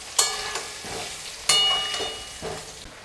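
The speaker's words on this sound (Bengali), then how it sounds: "দিয়ে এবার আলুটা একটু হালকা করে ভেজে তুলব" Potato pieces seasoned with turmeric and salt fry lightly in oil for bhoger khichuri, a close hiss with two sharp bursts of sizzling, each fading gradually, plus soft scraping in between.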